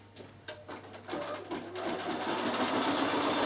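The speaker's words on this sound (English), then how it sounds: "now I'm going to show you how it embroiders the name" Bernina 7 Series embroidery machine stitching out a name, starting with a few clicks then settling into fast, even mechanical chatter that grows louder and steadier, close by.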